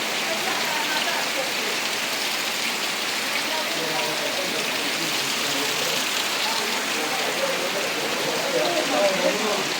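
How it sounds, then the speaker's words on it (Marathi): Steady, dense rain falls outdoors on a rainy Konkan trip, a loud continuous hiss that covers the whole stretch with no breaks. "हे बघा पाऊस चालू आहे मस्त पैकी."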